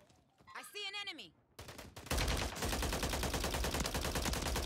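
Rapid automatic gunfire from a Rival-9 in Warzone 3 on Rebirth Island, a loud continuous burst of shots after a brief voice-like tonal sweep and scattered earlier shots.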